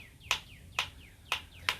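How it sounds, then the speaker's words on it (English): Bird song outdoors in a windy setting: four bright, sharp chirps, each with a downward sweep, repeated at roughly half-second intervals against a soft low rumble. "these birds are singing around me"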